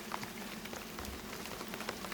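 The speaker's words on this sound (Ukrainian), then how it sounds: "Дощик іде." Steady rain patters outdoors at an apiary beside open beehives, a dense, even hiss of drops with no voices.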